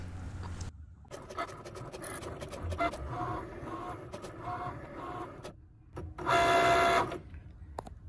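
A Cricut machine cuts faux leather on a mat with close whirring, scratchy carriage movements and ticking pauses, then a louder sustained motor whine near the end, with no talking.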